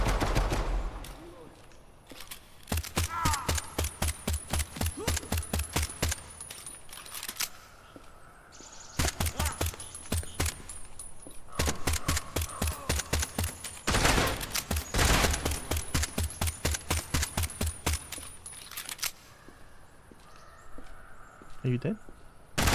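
Rapid pistol gunfire in the shooter game Project Silverfish, sustained bursts of evenly spaced shots in several long strings with short pauses, loud and close, with a voice talking briefly between bursts.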